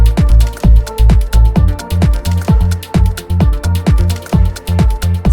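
A house music melody alternates back and forth between two notes over a punchy four-on-the-floor kick and steady percussion, loud and rhythmic with no talking.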